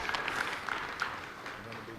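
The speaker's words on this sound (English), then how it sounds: "Yes, round of applause." An audience claps throughout at the opening of the International Seating Symposium in Pittsburgh, a dense, moderately loud patter of many hands under a speaker's voice.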